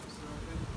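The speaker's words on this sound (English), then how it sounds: "How many thousand bees would you say this is?" A large swarm of tens of thousands of bees gives a close, low buzzing drone for under a second.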